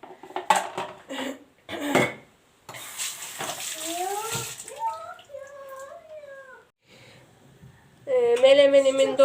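A metal lid clatters onto a cooking pot on a home stove where menemen and pasta in sauce are being made, among kitchen clinks and running water, with voices talking nearby.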